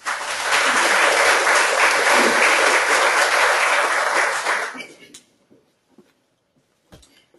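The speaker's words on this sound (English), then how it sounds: "let's give a big round of applause for Chad and Tommy" A presentation audience applauds loudly for about five seconds. The dense, even clapping then stops abruptly, leaving near silence with a couple of faint knocks.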